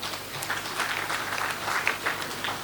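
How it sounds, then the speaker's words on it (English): A hall full of delegates at a high-level African counter-terrorism meeting breaks into applause, a dense, steady wash of many hands clapping at moderate volume for under three seconds, with no clear speech over it. "Let's hear another round of applause for him."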